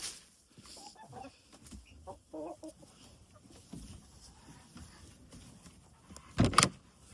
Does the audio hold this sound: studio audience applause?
no